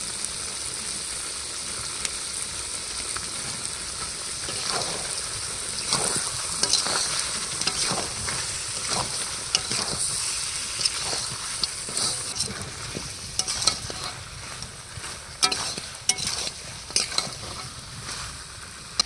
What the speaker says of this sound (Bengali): এবার লঙ্কা গুঁড়ো দিয়ে আরও 5-7 মিনিট একসাথে কষিয়ে নেব।